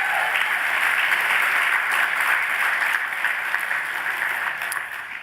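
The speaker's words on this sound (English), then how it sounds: "let's give these young ladies a round of applause." A conference audience applauds loudly and steadily for several seconds, the clapping dense and close, easing off slightly toward the end.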